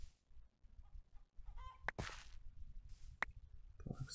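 A Minecraft chicken clucks softly near an obsidian-making setup: a few brief, faint clucks and a flutter over quiet background noise, with no talk.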